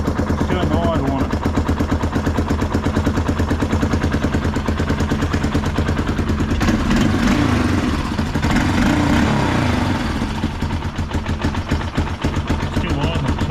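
A Yamaha Big Bear 350 ATV engine idles after a carburetor clean, a loud close rapid putter that chugs unevenly, with someone talking over it.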